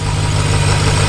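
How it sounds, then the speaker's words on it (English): A supercharged Hellcat engine swapped into a RAM 1500 idles loudly and close, with a steady low rumble and a faint rattling chatter from the supercharger blades. "you can hear the actual blades on the supercharger, like it's kind of making a little bit of chatter at idle."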